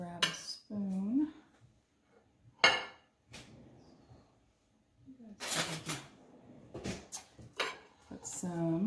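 Spoon and plate clatter from dishing up a single plate with potatoes and juices: scattered metallic clinks and scrapes of cutlery on dishes, some sharp and close, with a voice talking in between.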